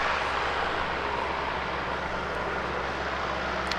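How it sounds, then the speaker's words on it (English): ATR turboprop airliner inbound to Christchurch Airport, heard as a steady, broad distant roar with a low hum beneath it and no voices. "It's got an ATR inbound from Queenstown, NZ5640."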